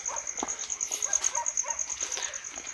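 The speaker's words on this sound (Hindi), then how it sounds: "ये कुत्ते जो हैं वो भौंकना शुरू हो गए हैं" Several dogs bark in short irregular bursts at a distance near a well, over a steady high insect-like whine and faint background noise.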